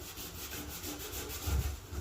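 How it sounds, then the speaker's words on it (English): A drill spins a red scrubbing pad during house cleaning, making a steady, faint, gritty rubbing noise with a slight pulsing texture and no talking. "So now I'm using the red pad. This actually goes on the drill,"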